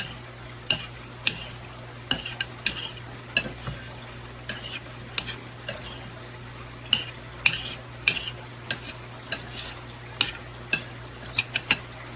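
Green beans stirred through bacon fat in a pan, a low steady sizzle under regular sharp clinks and scrapes of a utensil against the pan, about a dozen strokes at an even pace, no voices.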